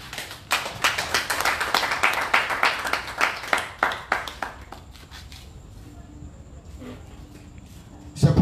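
A church congregation claps in a quick steady rhythm for several seconds to acclaim Jesus, the clapping then fading into quieter room sounds with a voice speaking.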